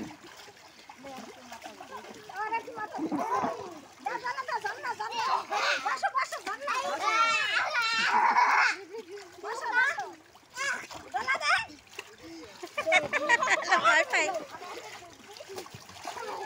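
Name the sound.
children splashing while swimming in water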